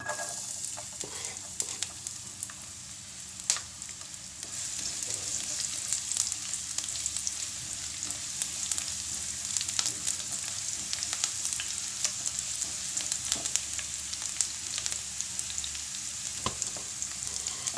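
Garlic fries in half a bowl of oil left over from frying bombil fish, a steady close sizzle and bubbling crackle running throughout with occasional clicks of stirring, while a voice speaks briefly at times.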